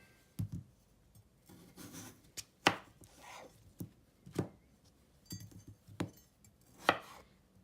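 Knife chopping potatoes into similar-sized pieces on a board, with about a dozen sharp, close cuts coming at an irregular pace, some doubled, with quiet gaps between them.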